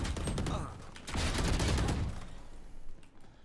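Automatic gunfire in Valorant rattles in dense, loud bursts during a round, then gives way to quieter scattered shots and game effects near the end.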